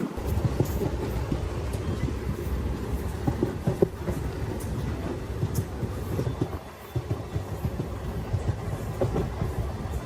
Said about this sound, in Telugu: ఒక్కసారి గూడూరు దాటిన తర్వాత ట్రైన్ చూడండి ఎంత ఫాస్ట్ గా వెళ్తుంది